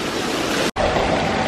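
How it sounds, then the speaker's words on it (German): Water fountains splash steadily at an indoor water park, a loud continuous hiss and spatter of falling water with a brief dropout midway. "findet übrigens der Nikolas richtig toll, diese einzelnen Wasserfontänen hier für die Kinder zum Spielen"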